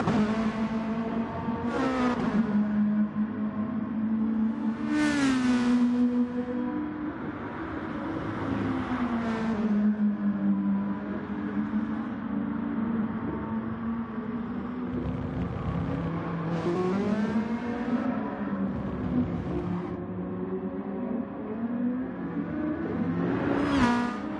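Gr.2 race cars in a Gran Turismo race, engines droning and shifting pitch steadily as they upshift, downshift and accelerate, with several loud revving passes cutting through a continuous close engine roar.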